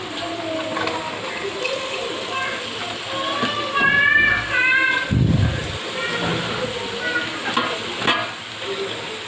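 Grated cabbage stir-fries in a hot pan while homemade egg fried rice is being made. There is a continuous sizzle with occasional scraping and stirring of a spatula, and a brief low thump midway.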